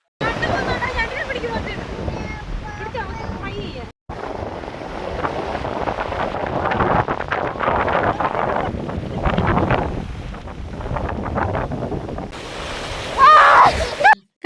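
Sea waves wash onto a Kerala beach with a broad, steady roar, mixed with gusty wind buffeting the microphone close by.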